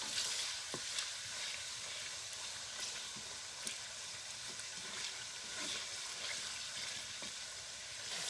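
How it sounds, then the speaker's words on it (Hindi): Chicken pieces fry in a pan over medium heat for chicken pakora, giving a steady, close hiss of sizzling oil with occasional soft stirring clicks throughout. "आंच दरमियानी रखें ताकि गोश्त फ्राई होने के साथ साथ गल भी जाए।"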